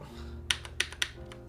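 Several computer keyboard keys pressed one after another, including one faulty key, heard as a handful of crisp, separate clicks over a low hum, close and moderately quiet.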